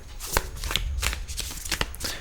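A tarot card deck is shuffled by hand in a series of quick riffling bursts, crisp and close, with short pauses between the flurries of card slaps and no talking.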